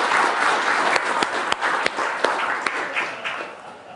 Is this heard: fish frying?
no